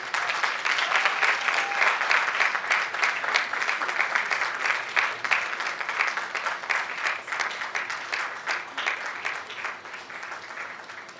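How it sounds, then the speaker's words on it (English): A conference audience in Kumasi breaks into a sustained round of applause welcoming a speaker, dense and steady before gradually thinning out toward the end. "Ladies and gentlemen, with a round of applause, let us all welcome Meshach Ban."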